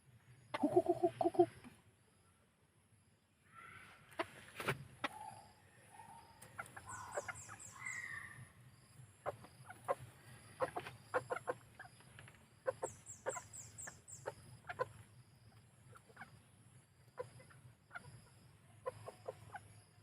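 Thai bantam chickens, a black-legged rooster and white- and black-legged hens kept free-range, cluck softly and intermittently nearby, with a few scattered louder calls against a quiet outdoor background.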